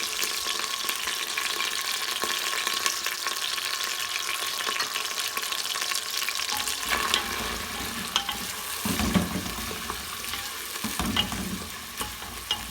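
Onions fry in about half a cup of oil in a pan while cooking palak chana dal, giving a loud, steady, close sizzle throughout, with scraping stirring sounds and small clatters growing in the second half.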